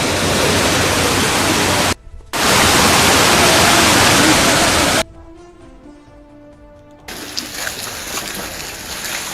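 Floodwater pouring into homes gives a few seconds of loud, gushing roar, briefly cut off, then resumes before dropping away to a quieter humming background.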